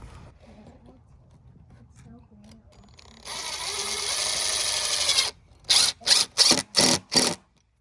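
A power drill drives screws into shallow wood, first one long whirring run, then five short, loud, evenly spaced bursts close by, after faint background talk.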